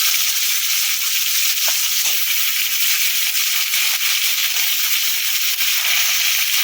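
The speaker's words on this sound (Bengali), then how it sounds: "হালকা করে ভেজে নিয়েছি এখন কেটে রাখা ডিম আর গাজরটা দিয়ে দেবো বেগুনটাও দিয়ে দেবো" Eggs, carrot and eggplant fry in a pan with a steady, loud sizzle and hiss that holds evenly throughout, with a few faint stirring clicks and no voices.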